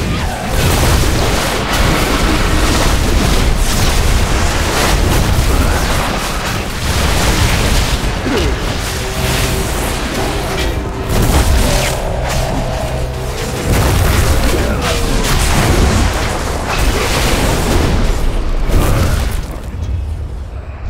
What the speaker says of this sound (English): Igniting the cannon, sir!